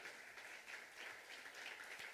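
A congregation in a church service applauds in praise, a steady, even wash of many hands clapping that holds at a moderate, somewhat distant level throughout with no voices over it.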